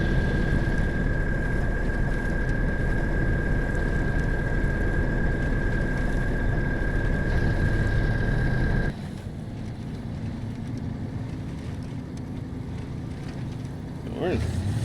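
An AZOV truck engine labours steadily while driving through mud in the SnowRunner video game, a constant loud drone with a steady whine that drops abruptly into a lower rumble partway through.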